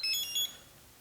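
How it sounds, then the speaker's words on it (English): An HTRC lipo balance charger gives a short run of high electronic beeps, two quick pairs of chirps within half a second, confirming the start of charging, followed by quiet room noise. "You heard the charger beep and confirm"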